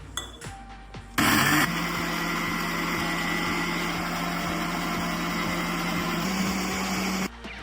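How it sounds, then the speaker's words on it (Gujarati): A kitchen mixer grinder whirs loudly and steadily for about six seconds, blending amla with sugar, lemon juice and water, with a sharp clatter as it starts and a faint knock before it stops. "થોડું આપણે પાણી નાખીને એને ગ્રાઇન્ડ કરી લઈશું."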